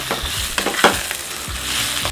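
Leaves sautéing in a hot pan for vallarai adai and thuthuvalai kulambu, a close, steady crackling sizzle with stirring scrapes and a few sharper clinks, no voices.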